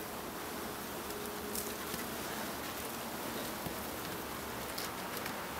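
Honey bees buzz at a hive in a steady, dense drone that fills the whole span evenly, with no voices and no clear breaks.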